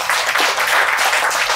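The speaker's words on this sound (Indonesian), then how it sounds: "Tepuk tangan dulu, nice banget" Audience applause at an Indonesian wellness camp session, a short steady burst of many hands clapping at moderate volume, close and continuous.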